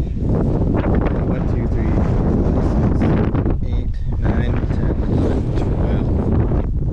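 Strong wind roars across an open farm field, buffeting the microphone with loud continuous rumbling gusts that cover the whole stretch, with voices faintly underneath.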